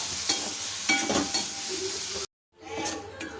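Onions, tomatoes and capsicum sauté in a pan over a low-to-medium flame, giving a steady sizzle with a few scrapes and clinks of a stirring spoon, then a brief gap before the frying resumes.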